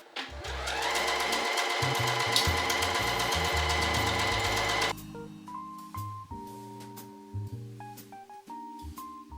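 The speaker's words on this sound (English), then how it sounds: "We're gonna sew here now with our normal 3/8 inch 1 centimeter seam allowance" A domestic sewing machine stitches a dress seam, running in a fast, even mechanical chatter for about five seconds, then slows to a few short bursts and isolated clicks as the fabric is adjusted, close and alone.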